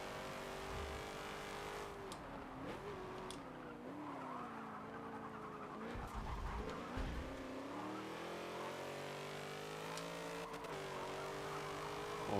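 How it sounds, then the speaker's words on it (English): B Class race cars in the Forza Motorsport 7 video game race in an open online lobby, engines revving and shifting pitch through corners with brief tire squeals, moderately loud and continuous. "Starkey's got the outside turning inside now"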